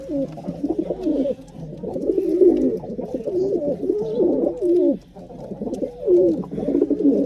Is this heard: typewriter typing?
no